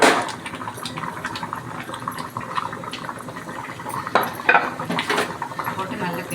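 Tomato rice is stirred in a metal pot, with clinking and scraping of a spoon against the pot over a low simmering bubble.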